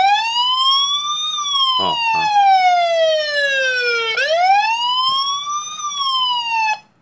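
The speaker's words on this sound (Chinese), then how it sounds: "它就会有所谓的警报器会响" A WiFi security camera's built-in alarm siren wails loudly and close, rising and falling in long smooth sweeps, with a brief voice heard under it.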